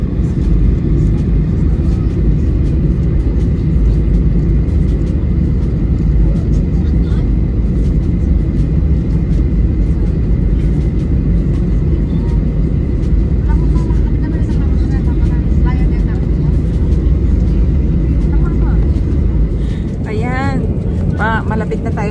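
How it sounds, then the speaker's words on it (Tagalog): Airplane cabin during the landing approach to Cancun, a loud, steady low engine and airflow roar filling the space throughout, with faint chimes or voices near the end. "Palanding na yung eroplano."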